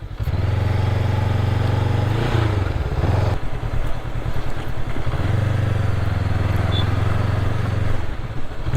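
Nx500 motorcycle ridden on a road in Assam, its engine droning steadily close up, dipping briefly as the rider eases off and then returning to a steady cruising hum amid wind noise.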